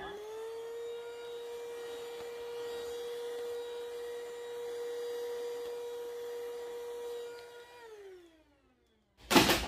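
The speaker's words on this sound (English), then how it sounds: "Right, so let's get my vacuum cleaner. Right, it's good to have this portable vacuum cleaner." A portable vacuum cleaner runs close by with a steady, high-pitched whine while cleaning a DF64 coffee grinder, then winds down to silence before a brief loud clatter at the end.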